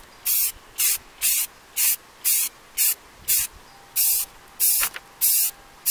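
Rust-Oleum spray paint hisses from a can onto a vase in nine or ten short, evenly spaced bursts, close and fairly loud, with brief quiet gaps between each pass.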